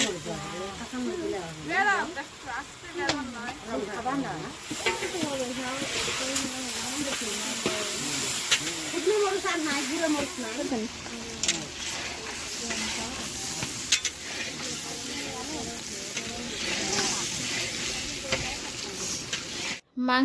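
Mutton curry for a Bengali wedding-style dish sizzles and hisses steadily as it is fried and stirred in a pan, with a person speaking over the frying throughout.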